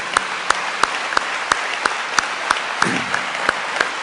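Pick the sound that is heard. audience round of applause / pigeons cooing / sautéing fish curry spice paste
audience round of applause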